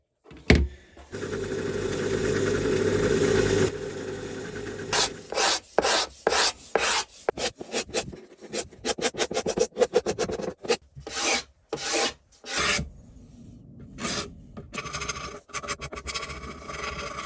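Cabinet scraper working rust off metric metal slip gauges: a long rasping scrape, then a series of short, loud, rhythmic scraping strokes with brief pauses between them, close up and alone.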